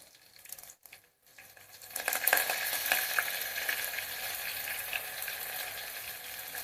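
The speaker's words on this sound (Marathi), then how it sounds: "लसूण आहे तो चांगला लालसर अगदी भाजून घ्यायचा कढीपत्ता घालूया" Crushed garlic frying in hot oil on medium heat, then curry leaves going in, for a Marathi black bean dal: a quiet start gives way to a sudden, fairly loud crackling sizzle that holds steady.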